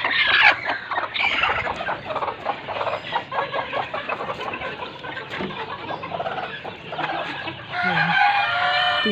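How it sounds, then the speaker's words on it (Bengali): Chickens of three sizes on a poultry farm cluck busily, with repeated crowing calls rising over a dense, close flock chatter throughout. "তিন সাইজের মুরগি আছে"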